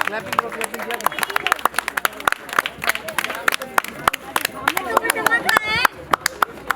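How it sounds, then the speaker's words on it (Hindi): Applause at a retirement ceremony as a guest is called up, sharp scattered claps from a group rather than a full roar, mixed with voices and murmuring nearby. "एक बार तालियां हो जानी चाहिए जोरदार"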